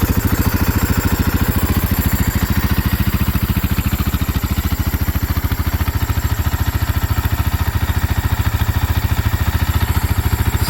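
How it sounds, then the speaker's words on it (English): Close by, a 2010 Husaberg FE570 motorcycle idles loudly through its stock muffler and exhaust, with a fast, even thumping pulse that holds steady throughout. "Now I'll fire the bike up so that you guys can hear how she runs."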